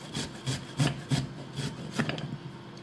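Fresh ginger, about two inches of it, is rubbed against a grater in a home kitchen, giving a quick series of close, raspy scraping strokes with short pauses.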